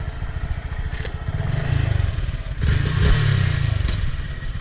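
A motorcycle engine revs up as a first-time rider pulls away on a dirt surface, the close, rough engine note rising in two surges over a steady low rumble, with a little clatter.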